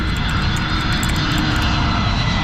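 Airbus A320neo airliner coming in to land on a damp, overcast day, its engines a loud, steady broadband roar with a constant low rumble, close by and unbroken with no talk over it.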